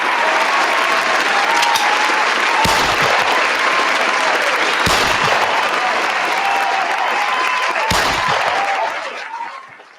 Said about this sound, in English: You already know we gotta give the hand claps and the gunshots